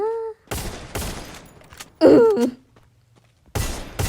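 Gunfire in the Free Fire video game as zombies are shot, loud bursts of shots in separate volleys with a groaning zombie cry between them.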